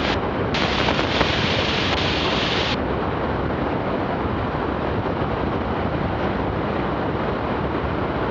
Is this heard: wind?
yes